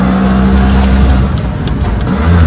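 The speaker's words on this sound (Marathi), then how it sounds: "हे बघा, फुल रेस दिले, फुल पिकअप आहे रिक्षाला" Auto rickshaw engine revved hard at full throttle with a steady, loud droning roar and a low rumble running through, close by and continuous, no voices over it.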